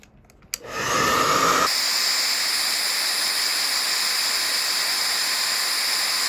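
Heat gun warming the plastic thigh swivel joint of a McFarlane action figure, a steady loud blowing roar that starts abruptly and holds constant, with a brief clatter just before.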